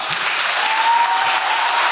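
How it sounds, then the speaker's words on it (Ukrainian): Loud, dense applause from an audience thanking a guest at the close of a public talk, continuous clapping throughout with no voices. "Оплески для вас."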